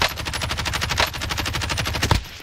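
Rapid automatic gunfire in a battle royale video game, a dense unbroken burst of shots at close range with one sharper report near the end.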